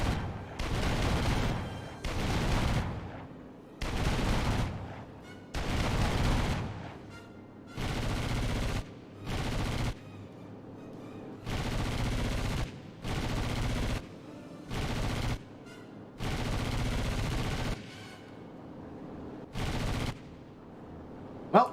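Machine-gun fire in the video game Enlisted, Battle of Berlin: repeated loud, close bursts lasting one to two seconds each, separated by short pauses, with no talking.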